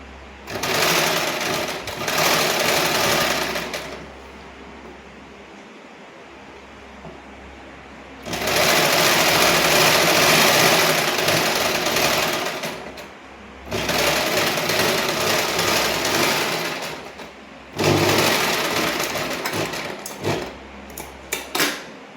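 A sewing machine stitches a lined blouse in three or four long, steady bursts of loud, fast whirring, each separated by a short pause, with no voices.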